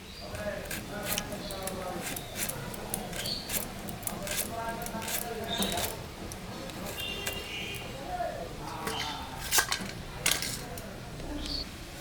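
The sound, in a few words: cutting bitter gourd with a knife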